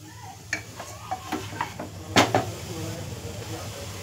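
Saffron-infused milk being stirred into coconut rice in a pot, giving a handful of soft scraping and clinking strokes with a louder clatter near the end over a low background hum.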